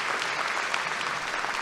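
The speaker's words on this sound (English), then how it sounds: "Let's give our speaker another round of applause, please, for that very passionate and engaging message." Applause at a North Carolina A&T State University fall graduate commencement ceremony, a dense, steady wash of many hands clapping from a large audience, continuous and even throughout.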